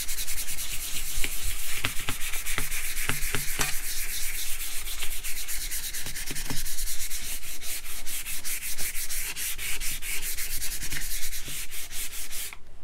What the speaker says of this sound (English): Safety tip, always wear a mask when you're sanding.